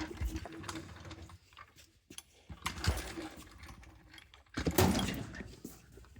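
A jack slid under the rear axle of a Chevy Silverado makes close metallic scraping, clanking and ratchet-like rattles in several bursts separated by brief pauses.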